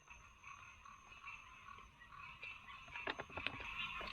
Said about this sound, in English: You hear the frogs just start up?